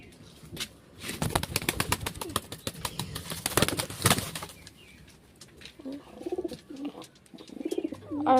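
Pigeons of the Lakha breed coo in soft, low repeated phrases near the end, after a burst of loud wing flapping and rustling close by, with no one speaking.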